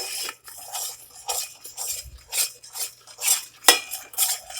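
A utensil scrapes and clinks against a pot on a gas stove as a candy mixture is stirred over medium-high heat, with irregular close scraping strokes and metallic taps.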